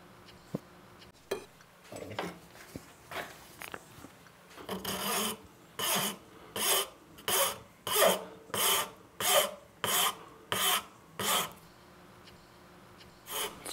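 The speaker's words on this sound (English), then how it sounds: "it's filing nicely" A file rasps across the wooden backstrap of an archtop guitar neck in a steady series of about a dozen loud, rhythmic strokes. A few lighter, scattered scrapes come first. Nearby and with no talking.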